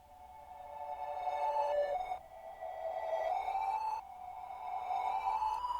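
Reversed guitar run through a Fruity Flangus flanger: soft, rising swells of shimmering, warbling tone. The swells repeat in three gradual riser-like waves, fairly quiet, with no talking.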